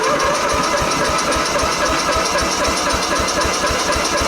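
Murray 12-horsepower riding mower with a 38-inch cut, its engine running rough and loud close by, a dense chugging rhythm with knocking pulses, no talk.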